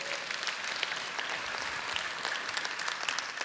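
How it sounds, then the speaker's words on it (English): An audience at a business talk breaks into a brief burst of dense, even clapping. "Yes, applause is called for."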